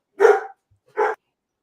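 A dog barks twice, close and loud, with a short pause between the barks and silence around them.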